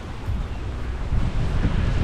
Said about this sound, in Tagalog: Lakas pa ng hangin.